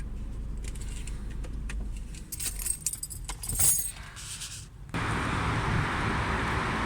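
A Ford C-Max smart key with its keyring jangles close by in a few bright metallic bursts, followed by a car's steady background hum.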